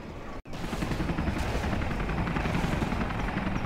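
An aircraft takes off in the video game C&C Generals, a loud, dense rumbling engine roar with rapid chopping pulses that begins abruptly after a brief silent gap and holds steady to the end.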